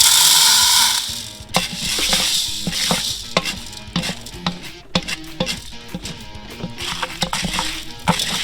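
Popcorn kernels cook in butter coconut oil, giving a steady sizzle with a rising scatter of sharp pops, some close and loud, spread irregularly through the stretch with no talking.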